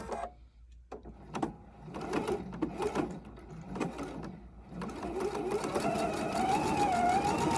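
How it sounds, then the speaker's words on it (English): A home sewing machine set to a quarter-inch seam stitches quilting fabric pieces, starting in short bursts, then settling into a continuous close mechanical hum with a rising whine. "So I can just lay my fabric on my machine."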